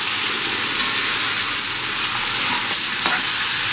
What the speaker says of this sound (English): Spread the chicken out and let it saute or lightly fry on low flame